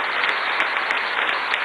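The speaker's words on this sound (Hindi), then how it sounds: "दोनों हाथ उठा के ताली बजा के स्वागत कीजिए" A large audience at a Bhopal event honouring top-scoring Class 12 students claps in welcome, a dense, steady wash of applause with a few sharper accents, loud and continuous throughout.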